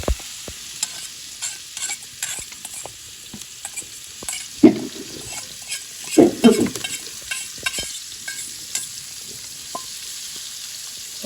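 Chopped onions with chilli and salt fry on a tawa in a close, steady sizzle, with a spatula scraping and stirring in irregular bursts and a few louder knocks midway.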